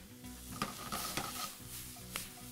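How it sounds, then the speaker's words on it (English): Onion and garlic frying in olive oil in a pan, with a steady sizzle underneath and a few louder scraping stirs of a utensil against the pan, close and continuous without talk. "And stir very well."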